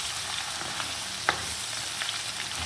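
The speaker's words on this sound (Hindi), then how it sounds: "और लहसुन की स्मेल होने तक हम इसको भूनेंगे" Garlic ginger paste frying on low flame in a pan for chicken karahi, with a continuous soft sizzle and a single clear spatula tap partway through, heard up close with no talking.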